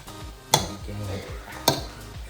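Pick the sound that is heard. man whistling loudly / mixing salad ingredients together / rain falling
mixing salad ingredients together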